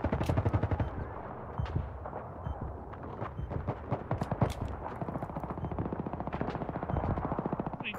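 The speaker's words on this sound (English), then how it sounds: "I spotted a hostile machine gun in your area" Sustained machine gun fire in Battlefield 3 multiplayer, a steady rapid rhythm of sharp shots rattling through nearly all eight seconds, fairly close and loud with rumbling battle noise behind.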